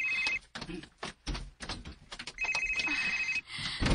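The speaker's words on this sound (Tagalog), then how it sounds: "May bagdang iyong cellphone." A cellphone ringing indoors, a bright electronic ringtone sounding in two stretches with thumps and shuffling in between, fairly quiet overall.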